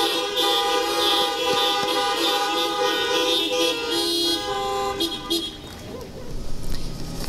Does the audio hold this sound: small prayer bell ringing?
no